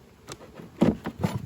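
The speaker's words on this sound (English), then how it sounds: "So get these bees out of here" Honey bees buzz around an open beehive being reduced into a nucleus hive. A few short, close buzzes pass by in quick bursts over a quiet background.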